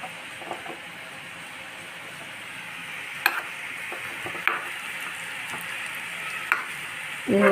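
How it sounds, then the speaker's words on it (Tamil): Food fries in hot oil in a pan, turning golden brown, with a steady close sizzle broken by a few sharp pops and stirring clicks, no voices. "இது வந்து பொரிஞ்சது போதும்"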